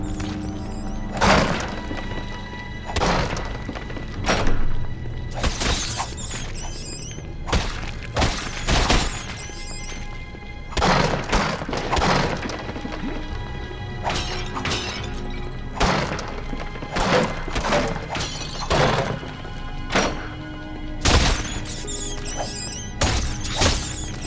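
Barrels, jars and crates being smashed in the video game Baldur's Gate: Dark Alliance, a long run of loud, sharp breaking crashes and thuds arriving in irregular bursts with brief gaps between.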